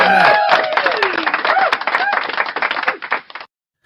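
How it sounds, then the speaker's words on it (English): A room full of people applauds loudly and densely right after a host introduces an act on a breakfast show, with a voice over the first moments. The clapping rolls on for about three seconds before cutting off to silence. "round of applause for Blackheart Night"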